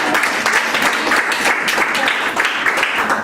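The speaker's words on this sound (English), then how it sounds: "I thought it would be a round of applause." A crowd at a reading event applauds loudly and continuously, a dense, close wash of many hands clapping that holds steady from start to finish.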